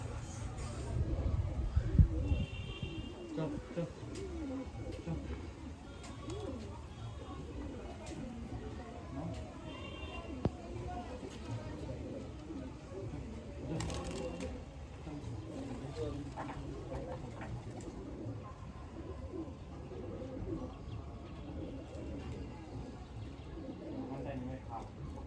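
Pigeons, including a newly trained bird, coo softly in a rooftop or household setting, a low murmuring that runs under ongoing talk and background bustle, with flutters and chirps mixed in.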